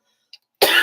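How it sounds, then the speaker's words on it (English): A short click, then one loud, sharp cough close to the listener. "I'm coughing a lot."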